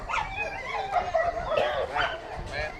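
Hunting dog barking and whining outdoors, short yips and whimpers in quick succession, with people talking nearby.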